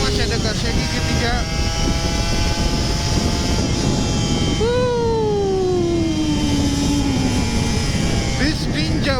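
Kawasaki Ninja RR motorcycle pulling hard in third gear on a Jakarta road, a loud continuous two-stroke engine note with wind roar and a rising then falling whine partway through, under a rider's voice.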